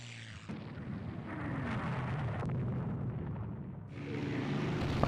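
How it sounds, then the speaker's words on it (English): Bombs striking battleships in Rule the Waves 2, a steady, rumbling wash of explosions and distant blasts holding for several seconds at a faint level, with no talking. "bomb hits on battleships"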